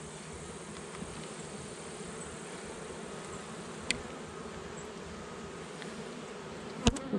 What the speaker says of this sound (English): Not a whole lot of bees in here.